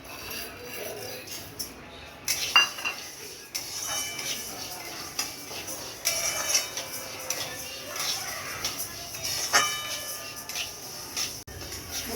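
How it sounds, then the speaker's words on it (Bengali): Mung dal is dry-roasted in a wok, producing a steady dry rustling and scraping as the lentils are stirred, with occasional metallic taps of the spatula against the pan. "কড়াই বসিয়ে দিয়েছি, মুগ ডাল ভেজে নেবো।"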